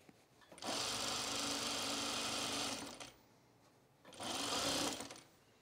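A sewing machine stitches a Sylvan Jacket sleeve sewn in flat, with the bobbin running low: two steady, close runs of motor whir, a long one and then a shorter one after a brief pause.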